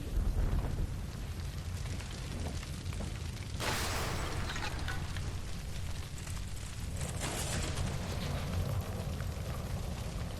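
A gas line explodes by a stove in the L.A. Noire detective game, a dense roaring blast sustained as continuous rumbling noise with bright surges of burst and crackle, loud and enveloping throughout.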